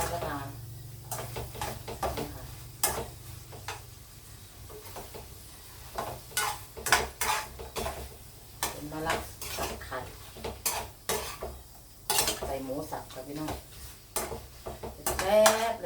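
Fried bitter melon tipped into a pan with egg and minced pork and stirred: irregular clatter of a utensil against the pan over a light sizzle, with someone talking throughout.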